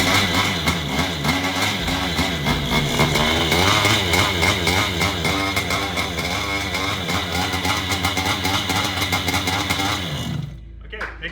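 A homemade budget paramotor engine runs on the bench, a loud, steady buzzing roar with rising and falling revs for about ten seconds before it cuts out abruptly, leaving brief quiet.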